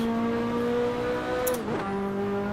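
Car engine in Assetto Corsa holding a steady drone, then dipping sharply as the gear drops and settling at a new pitch, close and continuous with no talk.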